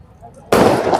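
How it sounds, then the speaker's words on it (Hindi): Fireworks burst at a Christmas charity event in Usmanpura: after a quiet half-second, a sudden loud crackling blast erupts and sustains as dense, fizzing pops close by. "आतिशबाजी का"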